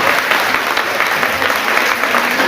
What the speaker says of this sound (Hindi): आप जोरदार तालियां बजा दीजिए।